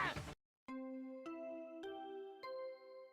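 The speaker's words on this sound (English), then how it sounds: "What you just heard was the body discovery announcement." A chime from the video game Danganronpa announcing a body discovery: four clear ringing bell tones in a stepped sequence, each struck and sustained with bright overtones, following a short burst of speech and a pause.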